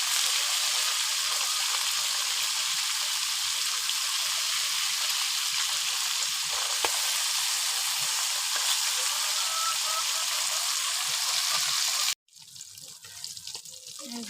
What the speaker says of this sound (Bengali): মাছগুলো কড়া করে ভাজতে হবে।